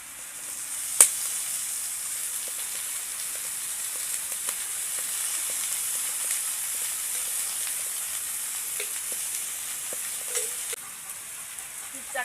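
Pieces of katla fish fry in oil in a pan with a steady, bright sizzle that goes on throughout, broken by occasional sharp pops and crackles, with no talking.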